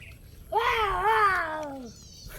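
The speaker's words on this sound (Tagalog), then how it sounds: "Ibon. Wow! Uwak yun eh." A single harsh, drawn-out crow call, heard near a grotto church in San Jose del Monte, Bulacan, rising and then falling over about a second and a half against quiet outdoor background.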